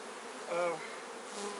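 Honey bees at a hive entrance make a short, close buzz that swells briefly and fades, with a second fainter hum just after.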